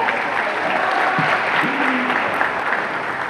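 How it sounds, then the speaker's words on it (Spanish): Concert audience applauding after an encore by a singer in Puerto Rico, a dense, steady wash of clapping throughout, with a few brief voices calling out over it. "Gracias y muchísimas gracias por sus aplausos tan cálidos"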